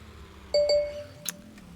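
A short electronic phone ringtone chimes twice in quick succession, a bright tonal beep with a lingering tail, followed by a faint higher ping.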